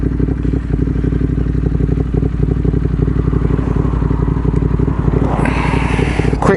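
A motorcycle engine idles loudly and steadily nearby with a dense low throb, a brief clatter or scrape near the end, and someone talking faintly underneath.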